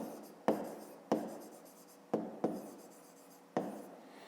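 Pen on paper during a fifth-grade maths exercise, several quick scratchy strokes with short pauses between them, close and soft, with no speech.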